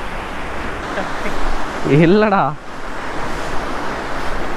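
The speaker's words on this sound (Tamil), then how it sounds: "தண்ணி அதிகமாக போகுது" Strong river water rushes through a water crossing near Palani on the way to Karur, a loud steady roar filling the whole stretch while someone speaks briefly over it.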